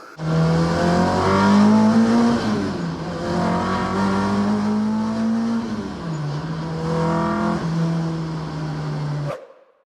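A car is driven hard, with a close, loud engine note climbing through revs, dropping at a gear change and pulling again before cutting off abruptly at the end.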